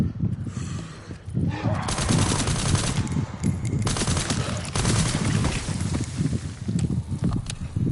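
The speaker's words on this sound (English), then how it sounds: "I gotta be careful not to shoot at the floor." Rapid bursts of automatic gunfire in the video game Resident Evil 9 Requiem, repeated volleys of close, loud shots with short pauses between them, over low rumbling game ambience.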